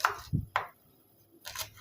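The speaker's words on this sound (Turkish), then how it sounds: "Soğanlarımı bu şekilde doğradım." A few separate crisp knife strikes chopping onions on a board, spaced apart with quiet gaps between them.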